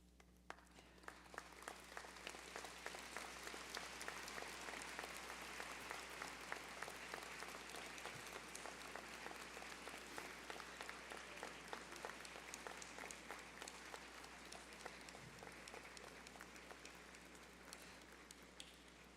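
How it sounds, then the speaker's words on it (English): A large university convocation audience applauds the graduates' supporters, producing dense, sustained clapping that fills the hall for about nineteen seconds at an even level, with no voices standing out. "now would be a good time to stand, turn around, and applaud all who have helped you to get to this point"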